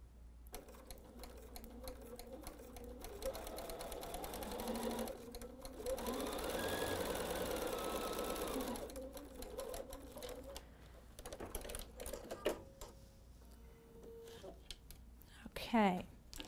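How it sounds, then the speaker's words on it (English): A sewing machine stitches fabric pieces together in a quiet room, with bursts of close, rapid mechanical whirring between pauses, mixed with soft handling noise. "It just kind of gets the machine going, and then I come right along afterward with my pieces that I want to sew together."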